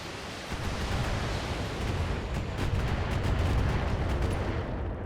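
LRM missile salvo firing in the BattleTech mech strategy game, a dense continuous roar of launches and blasts sustained loud for several seconds after a brief quiet start, no talk over it.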